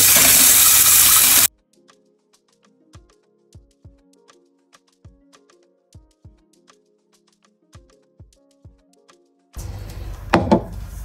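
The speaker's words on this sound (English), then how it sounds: "The very first thing we'll do now is to wash our zobo leaf." Fresh zobo (sorrel) leaves are rinsed under a running kitchen tap: a loud rush of water at the start and again near the end, with scattered drips and small knocks in the quiet stretch between.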